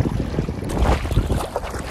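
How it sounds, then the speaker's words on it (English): Wind and choppy waves coming from two directions buffet a canoe on Lake Richardson in Maine's Rangeley Lakes, heard as continuous loud gusting and water sloshing close against the hull. "We have wind and waves coming at us from two different directions."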